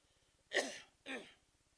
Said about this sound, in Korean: 하도 옆에서 기침해 대가지고.